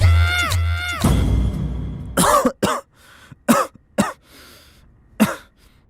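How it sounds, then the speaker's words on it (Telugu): Several sharp coughs in short bursts, close by, following a stretch of harmonic vocal sound; no other talk. "ఏమేం దగ్గుతున్నావు?"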